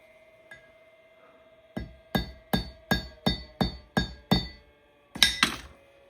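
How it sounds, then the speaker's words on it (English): A hammer stakes a soft brass rod down onto a check ball in a hit-and-miss engine fuel tank fitting: a single light tap, then a steady run of about eight sharp metallic strikes, and a final quick double hit, all close and crisp. "Put this down in here and stake it with a hammer."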